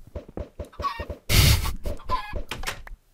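Chickens clucking in the video game Minecraft, a quick run of short clucks and squawks with one louder, harsher burst in the middle, close and clear before falling silent.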